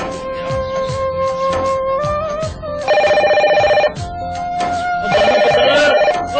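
A telephone rings insistently with a loud electronic ringtone, repeating melodic trills and bursts that come close and clear, with no talking.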